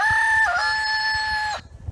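Rooster crowing inside a small airplane, one loud, close, drawn-out crow that stops abruptly, over the low drone of the engine.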